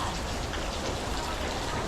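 Steady rain pours down in a rural mountain mining village in western Thailand, a dense, continuous hiss of drops on surfaces, close and even throughout with no voices.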